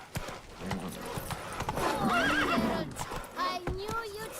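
Roach, Geralt's horse in The Witcher 3 video game, galloping with rhythmic hoof clops and a whinny, close and lively, with a voice over it.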